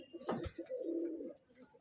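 Pigeons in a home loft after a flood give a soft, low coo, a single rolling call rising briefly in the middle, fairly close but quiet, with a few small rustles around it.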